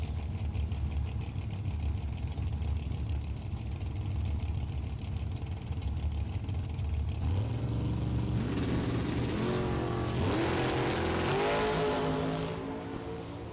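Dragster roaring loudly down a drag strip at a bracket race at Kil-Kare Dragway, a sustained near engine blare that shifts in pitch midway as it accelerates away, no talk.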